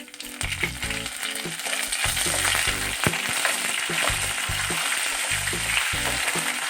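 Curry leaves and dried red chillies frying in hot oil, a loud continuous crackling sizzle with a repeated rhythmic low tapping throughout, close and without speech.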